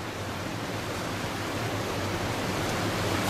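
Steady, loud roar of rushing water outdoors in north central Alabama, a dense unbroken wash of sound that stays near and constant throughout with no other sounds breaking through.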